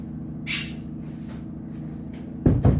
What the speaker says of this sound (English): let me shut that door real quick